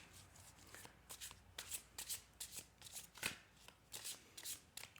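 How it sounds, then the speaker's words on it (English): Tarot cards shuffled by hand in quick, repeated riffles and slides, close and crisp, a steady run of soft bursts with no talking. "I will give them a little more shuffle"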